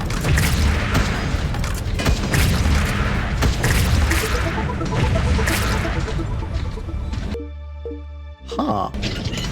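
Bomb thrower explosions blasting through an enemy wave in the game Wall World, a dense, loud run of booming bursts and crashes for several seconds, then cutting abruptly to quieter mechanical tones and a few softer thumps.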